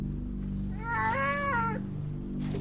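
An injured cat caught in a cholla cactus lets out a single drawn-out, wavering cry of pain, close and clear, over a steady low rumbling hum. No one speaks.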